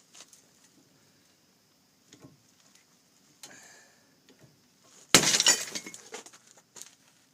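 Faint ticks and creaks build up as a gear puller tightens on a rusted rotor, then a sudden loud crack, followed by a few smaller snaps as the part shatters.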